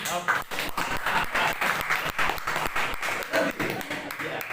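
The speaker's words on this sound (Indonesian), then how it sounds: "Tepuk tangan." Audience at a Christology preachers' training session in Salatiga applauding, steady clapping throughout with voices mixed underneath.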